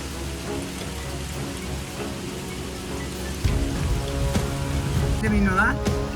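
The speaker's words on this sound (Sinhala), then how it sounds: "වතුර වැස්ස දෙවි දෙවි" Heavy rain falls in a steady, close hiss, with scattered sharper drips and impacts that grow louder toward the end, while a few faint, brief vocal sounds come through.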